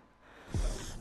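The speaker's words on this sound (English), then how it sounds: "Sorry for all the heavy breathing" A single sharp, close breath after a bout of VR boxing in Creed: Rise to Glory on PSVR, a quick gasping inhale or exhale that swells and lingers briefly.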